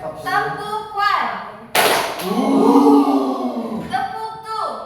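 A classroom clap game brings one sharp, loud burst of hand clapping midway, set between stretches of talking.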